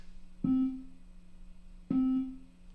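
Two separate synthesizer notes with a longer release, each struck cleanly and then fading out gradually over roughly half a second instead of stopping abruptly, played alone and close.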